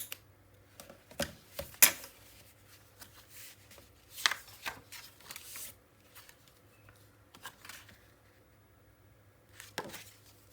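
Scissors snipping paper while a mini album is assembled: a few quiet, sharp cuts scattered among soft rustling and handling sounds, close and at low level, with no talking.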